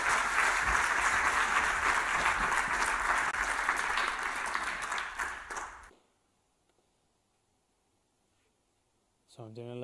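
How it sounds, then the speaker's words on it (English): Loud audience applause at a data science talent event fills the room steadily for about six seconds, then cuts off into near silence before a brief sound returns at the end. "Can we have a big round of applause for Rob Higgins?"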